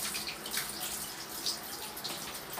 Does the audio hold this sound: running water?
yes